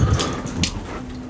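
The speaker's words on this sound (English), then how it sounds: "there's no reason for him to be barking, yet he's running around this house barking" Dog barking and whimpering indoors, a couple of short yips and whines over low room noise, fairly close, with no voices.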